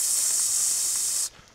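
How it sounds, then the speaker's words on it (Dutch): Carrot soup on the stove giving off a steady, bright hiss of steam that cuts off abruptly near the end, leaving near silence. "Wortelsoep aan het koken."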